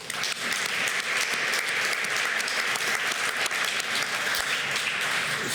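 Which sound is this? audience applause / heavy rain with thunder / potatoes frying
audience applause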